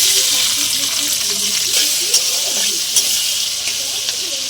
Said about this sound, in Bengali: ভেজে নিয়েছিলাম আলু ভাজা তেলেই আমি দিয়ে দিলাম এক বাটি পেঁয়াজ দিয়ে দিলাম